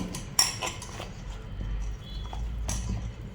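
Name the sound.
stirring cooked pizza topping in a pan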